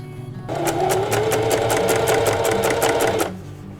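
A sewing machine shirrs fabric with elastic thread wound on the bobbin, running in one steady, rapid burst of stitching for about three seconds, loud and close with no voices.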